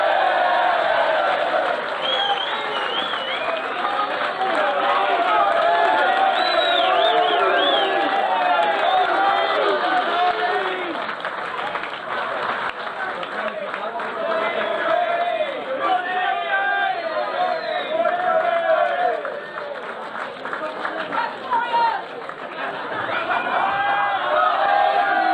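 Outdoor crowd at a tag rugby tournament, the British & Irish Cup, cheering and chattering continuously with overlapping voices and shouts, loud and sustained throughout.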